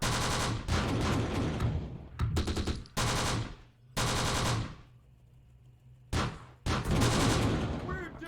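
Heavy bursts of machine-gun fire and artillery in the World War II strategy game Close Combat: The Bloody First, loud repeated volleys with short gaps between them.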